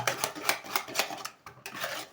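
Room-temperature eggs and sugar are beaten by hand with a whisk rather than a mixer, giving fast, rhythmic metallic strokes against a bowl at about four per second, close and fairly quiet.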